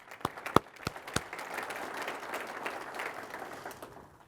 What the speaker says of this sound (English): I want to give all of our speakers a round of applause.